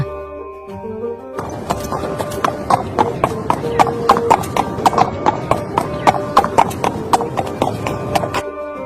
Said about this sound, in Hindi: अरे ये तो घोड़े की आवाज है